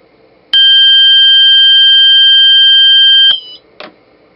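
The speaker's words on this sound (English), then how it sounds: "once that time elapses, the alarm will go off" A loud electronic alarm sounds one sustained, harsh multi-toned beep for about three seconds, then cuts off, followed by a short chirp.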